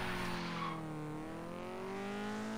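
A stock Nissan 240SX engine revs hard under acceleration, its rising harmonic drone climbing steadily in pitch through the gear, loud and close with a brief dip midway as a shift occurs, no talk over it.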